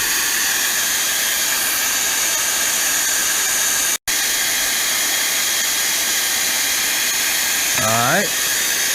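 A generic cold air gun fed by an air compressor blows a steady, loud hiss of compressed air with almost no break, cutting out for an instant midway, and a brief rising tonal squeal appears near the end.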